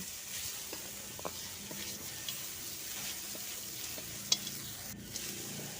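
A pan sizzles quietly as food fries until lightly browned, a soft continuous hiss punctuated by occasional clicks and stirring taps of a utensil, close and without talk.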